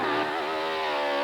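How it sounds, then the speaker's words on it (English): A GSXR 1100 motorcycle at the Great American Hill Climb in Billings, Montana, running wide open up the chute: a loud, sustained high-pitched engine howl with steadily climbing revs and no talk. "That is the sound of a GSXR 1100"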